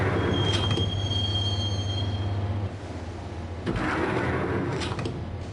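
A subway train rides along the rails in the video game Max Payne, a loud steady rumble with a thin squealing wheel tone early on and clanking bumps later.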